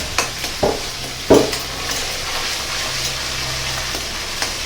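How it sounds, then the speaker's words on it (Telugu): Chicken curry ingredients frying in a pan, Kerala style, with a steady sizzle throughout and a few sharp stirring scrapes and clinks near the start, close and fairly loud. "ఇవల్లా బాగా పచ్చి వాసన పోయే వరకు ఫ్రై చేసుకోవాలి."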